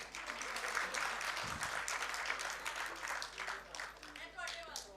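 Applause from an audience at a Punjabi language and culture event, steady clapping throughout, moderately loud with brief murmuring voices underneath.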